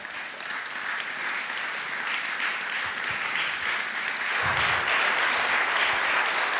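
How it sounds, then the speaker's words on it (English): Dense applause fills a conference hall after a panel discussion on global governance and the lessons of COP21. The clapping is steady and grows somewhat louder partway through. "Je crois que nous pouvons les applaudir très fort."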